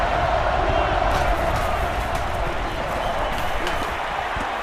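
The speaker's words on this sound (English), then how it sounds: "So this crowd is making their presence felt." Simulated stadium crowd from NCAA Football 09 roars in a constant dense din during a Florida State at Notre Dame game, loud and steady with faint shouts, while a commentator talks over it.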